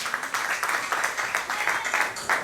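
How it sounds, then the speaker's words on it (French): A church congregation at a Sunday harvest service breaks into applause, a dense and fairly loud wash of clapping held steady throughout with no talk over it. "sous vos acclamations"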